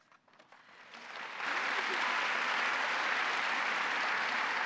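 An audience at a St. Mary's Academy graduation commencement breaks into applause, starting sparse and swelling within a second into dense, steady clapping from a large crowd.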